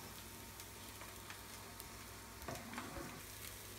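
Cauliflower pieces for Cauliflower Manchurian fry in hot oil with a steady, close sizzle and soft crackle, and a few brief pops and stirring scrapes near the end.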